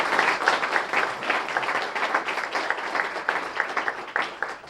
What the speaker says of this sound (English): I'd like a nice round of applause again for all these wonderful students